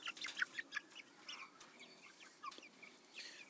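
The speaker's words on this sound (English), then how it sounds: "Look at all these tiny little chickens going crazy." Small chickens clucking and chirping outside in a yard alongside ducks, faint scattered calls coming in short bursts at a distance.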